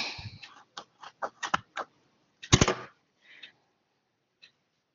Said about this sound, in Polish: trzeba zawsze dokładnie to tnąć. Mieć bardzo dobre nożyczki.